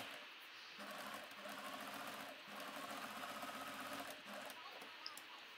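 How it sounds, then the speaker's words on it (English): A sewing machine zigzag-stitching with brown thread around the edges of a paper card hums and whirs in a quiet, continuous run with brief pauses, heard up close and alone. "let's just sew around our card really quickly"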